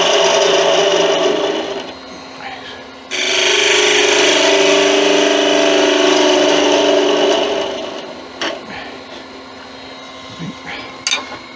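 A wood lathe takes light cuts on a stainless steel honey dipper, making a loud, sustained scraping rasp in long stretches that break off into quieter pauses with a few sharp clicks.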